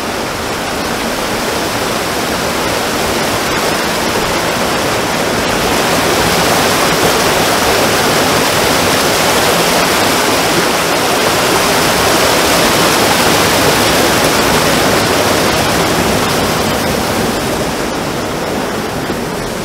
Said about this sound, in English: The whole entire river is just compressed through that little hole in the rocks, 2 feet wide.